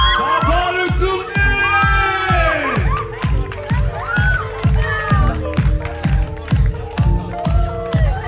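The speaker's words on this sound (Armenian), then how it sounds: "Բարձր ծափարեք" An audience at a celebration cheers and claps in a steady rhythm, with excited shouting and whooping voices rising over the beat of the clapping, loud and close.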